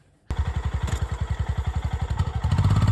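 A motorcycle engine fires up and pulses steadily as the bike is ridden up a loading ramp, a close, loud rhythmic chug that grows slightly heavier toward the end.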